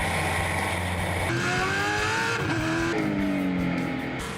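Vintage race cars roar past at Circuit of the Americas, with engines rising and falling in pitch as several cars speed by in turn, a continuous loud motor noise without talk.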